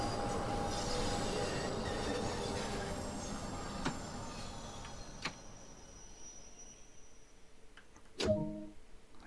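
Bakerloo line train pulling into London Paddington in Train Sim World 2, a steady rumble of wheels and motors fading as it slows, with faint squeals and clicks and a sharp hiss or clunk near the end as it stops.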